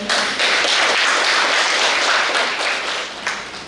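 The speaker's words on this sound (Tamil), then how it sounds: "வருக வருக என கரகோஷத்துடன் வரவேற்கிறோம்" Sustained applause from the audience welcoming guests at a Women's Day celebration, dense hall clapping that holds steady for several seconds before thinning slightly.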